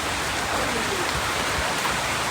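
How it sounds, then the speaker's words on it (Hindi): Rain falls outdoors near an open-air dining spot, a steady, dense hiss of drops that fills the whole moment without any break or voices. "बारिश आ गई।"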